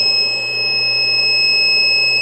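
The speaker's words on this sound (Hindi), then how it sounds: "अच्छा, इसने अलार्म दे दिया है लेकिन उसके बावजूद ये लोड चलाता रहा है" A steady, piercing overload alarm from a 2000-watt 12-volt power inverter running an iron holds without a break over a low hum, loud and close.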